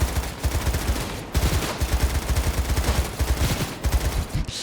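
Rapid gunfire from a pistol in a video game, loud and close, a steady stream of sharp shots in quick rhythm with brief pauses, no talk over it.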